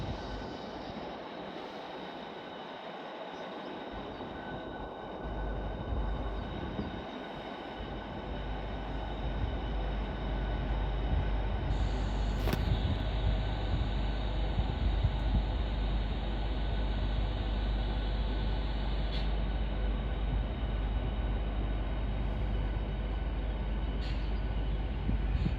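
A Class 395 high-speed electric train arriving from Ramsgate at London St Pancras International, with a steady rising rumble and hum that grows louder and stays continuous, with faint squeals in a large reverberant station.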